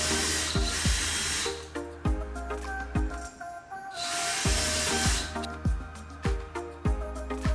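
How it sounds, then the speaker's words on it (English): A power drill bores mounting holes through a taped installation template for a dimensional metal letter sign, whirring steadily with repeated sharp starts and bursts over about seven seconds, close and loud. "Now let's drill the mounting holes."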